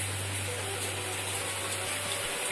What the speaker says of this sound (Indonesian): masih turun hujan